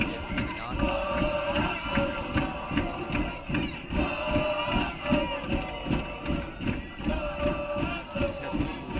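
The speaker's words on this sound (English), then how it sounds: "This SPU crowd still trying to get something going." Spectators at a women's college soccer match between Colorado School of Mines and Seattle Pacific make a continuous crowd roar with rhythmic chanting and shouts, heard beneath a commentator talking over it.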